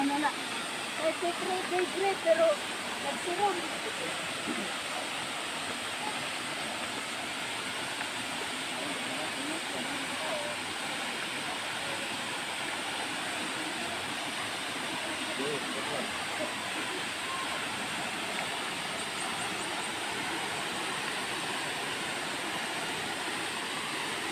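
A weak, thin flow of water falling at an icy-cold spring during the dry summer season, heard as a steady, low rushing hiss throughout with a few slightly louder bumps at the start.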